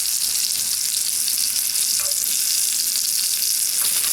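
Food in a pan on an improvised survival stove cooks through on leftover heat, giving a loud, even frying hiss that holds steady without voices.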